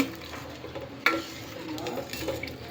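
Rice for tomato rice is stirred in a pot, with soft scraping and a sharp utensil knock against the metal near the start, over low cooking noise.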